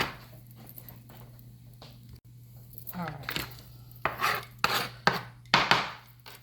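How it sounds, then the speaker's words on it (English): Knife dicing onions on a cutting board for homemade chili, starting as soft scattered taps and building into sharp, close chops in a quickening series, with a steady low hum underneath. "So we're going to get the onions diced."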